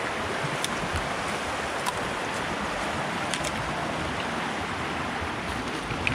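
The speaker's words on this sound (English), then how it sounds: "The water's very noisy in this area. You can see it's going over the stones." Water rushes noisily over stones in a shallow stream of white water, a loud, steady broadband roar with scattered splashes and no talk.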